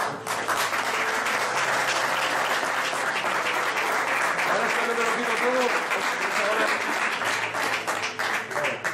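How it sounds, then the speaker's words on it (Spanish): An audience at a working-sessions talk in Vilafamés on a Viking bowl breaks into dense, sustained applause that fills the room, with someone speaking briefly over the clapping. "creo que esos aplausos no son merecidos"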